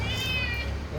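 Two hungry cats arriving downstairs give a drawn-out, whining meow, loud and close, filling the whole moment with no talk.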